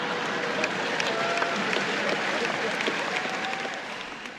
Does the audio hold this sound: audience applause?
yes